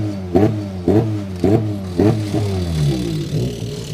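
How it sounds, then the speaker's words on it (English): Turbocharged TCR UK touring car engine at Brands Hatch Indy circuit revving repeatedly while the turbo warms to temperature: five sharp throttle blips at roughly half-second intervals, then a steadier, falling idle, loud and close with no talk. "If you ever go to touring car racing, you'll hear these engines doing this"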